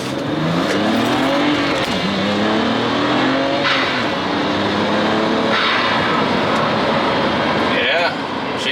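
A BMW 335xi with a stage 1 tune, upgraded intercooler and catless downpipe accelerates on the road, its loud engine note rising and dropping through repeated gear shifts, heard from inside the car with a voice briefly over it.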